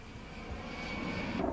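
A-10 Warthog low-level strike jet aircraft flying, a steady broad roar of jet engine noise sustained throughout, loud and fairly close, with no voices.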